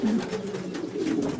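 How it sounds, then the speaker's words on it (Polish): A long-distance racing pigeon, a yearling back tired from a flight, gives a brief low rolling coo, close and alone. "to jest gołąb na długie loty"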